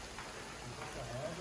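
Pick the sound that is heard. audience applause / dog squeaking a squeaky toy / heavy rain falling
heavy rain falling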